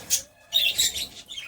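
Pet birds in an indoor bird room give short, high chirps and tweets in two or three quick bursts while feeding, close by and fairly clear.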